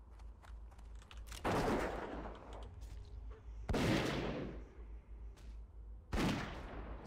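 Magi blunderbuss firing in classic World of Warcraft, three loud, booming shots spaced a couple of seconds apart, each with a long rumbling tail that fades before the next.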